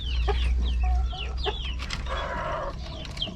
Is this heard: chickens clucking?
yes